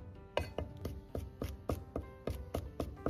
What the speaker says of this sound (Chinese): 大蒜3颗先拍破， 然后再剁碎。